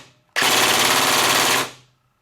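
A VFC SCAR airsoft AEG with a Kong Power MOSFET fires a loud, close, continuous burst at a reduced rate, a dense rattling stream of shots lasting just over a second before it cuts off.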